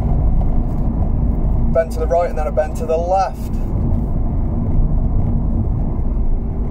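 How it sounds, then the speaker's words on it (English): Diesel car engine running while driving on a road with bends, a steady low hum and road rumble under a voice giving driving instructions. "I'm in a diesel car, so my gears are always a bit lower."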